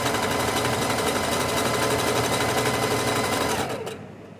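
A sewing machine runs steadily stitching the bottom hem of a garment, a fast continuous mechanical chatter that carries on for several seconds before winding down and stopping.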